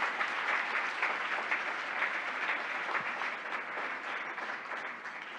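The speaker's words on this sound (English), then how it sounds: "please applaud this amazing team that does it every day." Audience at a 2023 Toronto recognition evening applauding an organization's team: dense, steady clapping from a crowd in a hall, holding strong for several seconds and tapering slightly at the end.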